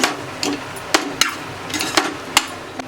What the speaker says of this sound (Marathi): तर आता हे बघा आपल्याला असं मिक्स करून घ्यायचं आहे।